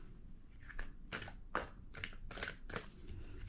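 A deck of tarot cards being shuffled by hand in several quick, crisp riffling bursts, close and fairly quiet, with no talking.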